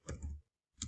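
Typing on a computer keyboard, a short burst of a few soft key clicks, a brief pause, then another click, close and quiet, with no talking.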